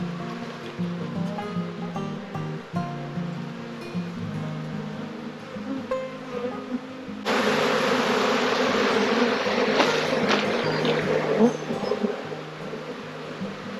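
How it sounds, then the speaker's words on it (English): A swarm of bees taken from a compost bin buzzes loudly and close, with a steady drone that swells abruptly into a denser, louder roar partway through as the bees are dumped into a tub. "now we're dumping the bees back in here"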